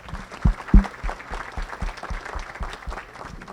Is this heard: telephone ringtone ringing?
no